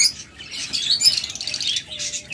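Pet lovebirds in a sale cage squawking and chirping, a rapid stream of shrill, raspy calls close by with brief pauses, no talk.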